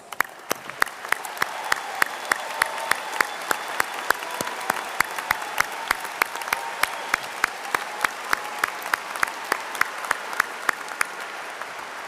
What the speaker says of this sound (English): so we can give you a well-deserved round of applause